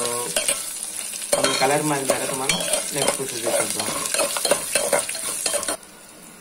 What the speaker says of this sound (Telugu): తాలింపు చక్కగా వేగాలండి।